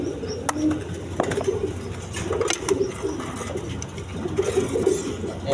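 A loft of big-size milli-coloured racer pigeons keeps up a steady, layered cooing over a dense background murmur of birds, with scattered sharp clicks and no talk.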